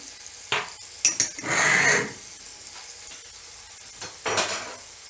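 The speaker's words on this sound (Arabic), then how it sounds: "ونخلط الكل جيدا ونترك اللحم يتشرب من البهارات وباقي الخليط" Meat coated with paprika, turmeric, cumin, ginger and ghee is stirred in a pot for Moroccan couscous: scattered scrapes and knocks of a utensil, with a brief swell of sizzling in the middle, close and fairly loud.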